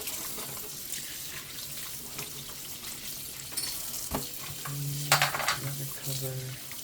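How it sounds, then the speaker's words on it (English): Plastic AeroGarden Harvest Elite Slim parts scrubbed under running water at a sink, a steady wet rushing with scraping and clattering handling noises that grow busier and louder toward the end. "I'm just gonna kind of try and scrub this stuff off a little bit"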